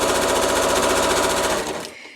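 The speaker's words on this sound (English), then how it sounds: "I am going to just stitch straight down this edge." A sewing machine runs a straight quarter-inch seam down the pressed edge of a quilt sleeve, a steady, loud rapid motor-driven stitching rhythm that slows and stops near the end.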